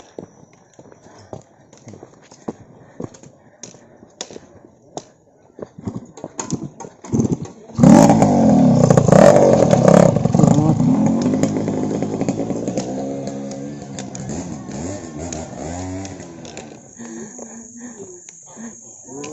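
A motorcycle engine starts up nearby on a mountain trip and revs loudly for several seconds, then settles to a steady idle, following quiet scattered clicks and faint background noise.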